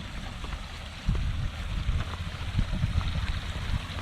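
Water streaming along the edge of a paddy field, heard outdoors as a steady low rushing and burbling that grows fuller after the first second and continues without pause.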